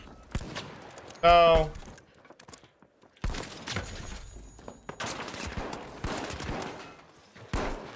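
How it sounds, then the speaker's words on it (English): Bursts of gunfire in a video game using a revolver, with sharp repeated shots clustered in several volleys, some close and loud, while a player's voice briefly speaks between them. "I'm getting shot by the dude."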